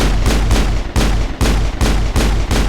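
Loud, heavy gunshots fired inside the Normandy starship in Mass Effect, about seven sharp blasts at a steady, rapid rhythm, each with a booming low end.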